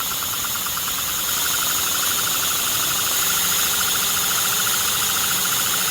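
An air-compressor-driven inline-4 engine idling close by, giving off a steady, dense hiss and whir with a fast, even pulsing underneath, unchanging and fairly loud for the whole stretch.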